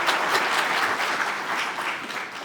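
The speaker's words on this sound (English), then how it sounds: "Help me give another big thank you, round of applause to our president of Malcolm X College, Mr. Sanders." Audience applause fills a town hall gathering, a dense, steady patter of many hands clapping together at close range, sustained throughout without talk over it.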